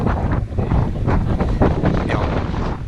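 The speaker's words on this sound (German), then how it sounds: "jetzt ist es wieder ziemlich windig geworden." Steady wind roars and buffets the microphone through the whole stretch beside a bay in Greece, a broad continuous rush with gusty swells and no clear voices.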